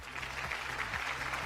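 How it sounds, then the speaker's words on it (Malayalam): Studio audience applause for a young boy on a Malayalam TV show, a steady wash of clapping at moderate level over a low hum, lasting about a second and a half. "ഈ മോന് നല്ലൊരു കയ്യടി."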